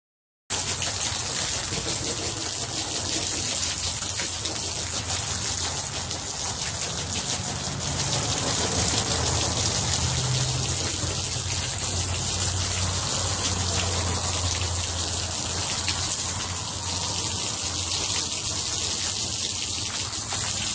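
Steady rushing water pours and splashes continuously onto flood bags at close range, a dense broadband wash with a low churning undertone and no voices.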